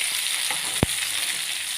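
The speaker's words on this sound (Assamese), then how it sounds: "মোৰ পিঁয়াজখিনি এতিয়া ভাজি হৈ গ'ল।" Onions and a few dried red chillies frying in hot oil give a steady, close sizzle throughout, broken once by a single sharp pop; nobody speaks.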